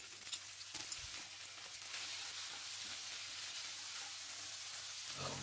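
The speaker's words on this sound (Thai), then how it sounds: "เริ่มผัดให้เข้ากันเลยครับ" Spaghetti and sausage stir-fried in a pan with dried chili: a steady, close, hissing sizzle runs throughout, with occasional stirring scrapes and no talking.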